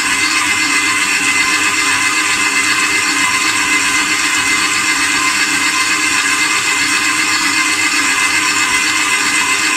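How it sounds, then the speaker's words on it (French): A kitchen mixer beats brioche dough with softened butter for a homemade burger bun, giving a steady, continuous motor whir that stays loud and unchanging throughout. "je laisse battre le temps que tout se mélange et s'incorpore"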